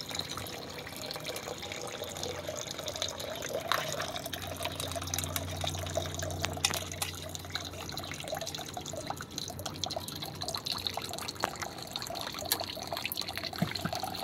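Water flows steadily out of a homemade toilet pipe, a continuous trickling and splashing stream at moderate volume with small drips, heard alone.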